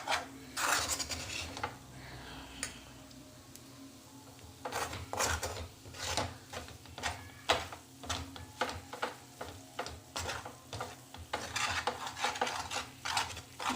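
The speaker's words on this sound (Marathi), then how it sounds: "छान असं मिक्स करून घ्यायचं." A thick peanut sweet mixture, starting to gather into a ball, is stirred in a pan, making repeated close scraping and rubbing strokes in an uneven rhythm, with no talking.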